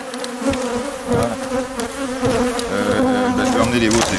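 Honey bees buzz densely around an open hive during a backyard honey harvest, a continuous close droning swarm with wavering pitch and individual insects swelling past the microphone.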